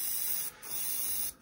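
Close, loud hiss of a spray can laying a primer coat on a 54mm model figure, in two bursts with a short break between them and no voices.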